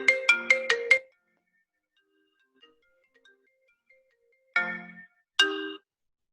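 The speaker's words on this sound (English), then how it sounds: "I've got an issue with notifications and stuff." A phone notification ringtone sounds during a podcast interview: four quick bright chiming tones in a row, then quiet, then two more separate chimes, clear and close with no talk over them.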